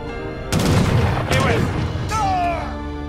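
Bombard cannons firing in the video game Age of Empires 3 during a battle: a couple of heavy booming blasts close together, loud and reverberant, layered with other battle noise.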